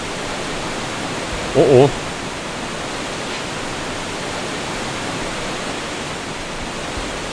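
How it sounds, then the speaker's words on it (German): A loud waterfall in the video game Gothic 2 gives a constant, even roar of rushing water throughout, broken only by a brief spoken exclamation. "Wasserfall, da ist mir zu laut."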